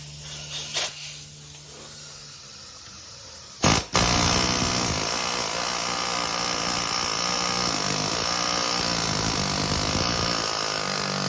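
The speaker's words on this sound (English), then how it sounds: "Air chisel is my least favorite method to use on this because I'm not trying to hurt the steering knuckle" Air chisel hammering at a seized hub assembly on a 2004 Dodge Grand Caravan steering knuckle: after a brief burst, a loud continuous pneumatic rattle runs for about seven seconds, close and steady, with no talk.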